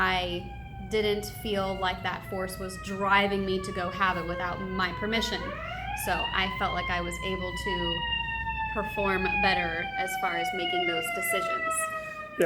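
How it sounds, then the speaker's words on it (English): Emergency vehicle sirens wail and sweep in pitch as they pass by outdoors, sustained and moderately loud beneath someone talking continuously. "you'll pardon the sirens going by here"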